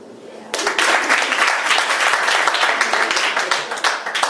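Stand-up comedy club audience bursting into sustained, dense hand clapping after a brief quiet start, loud and continuous for several seconds with scattered voices mixed in.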